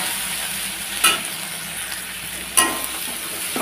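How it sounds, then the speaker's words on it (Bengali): Garlic frying in a pan for a kochur loti dish, with a steady soft sizzle and two sharp stirring scrapes, each followed by a brief burst of sizzle. "তো এখন এটা একটু ভালোভাবে নেড়ে চেড়ে নেব, রসুনটাকে একটু লাল করে নেব।"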